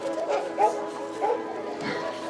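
East Siberian Laika dogs at a Yakutian Laika dog show give several short barks and yips amid steady crowd chatter and a judge's voice, with the dogs close by.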